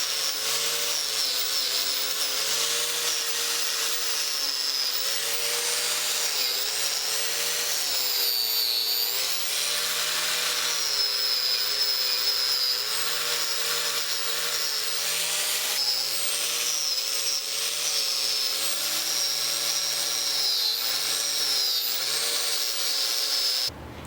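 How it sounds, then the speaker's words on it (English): A power sander works steadily across a forged steel bowie knife blade made from ball bearings, taking out dings for the final finish, with a continuous loud whine that shifts slightly in pitch throughout and no talking. "So now I gotta go ahead and sand those back out, and we'll try to put the final finish on this."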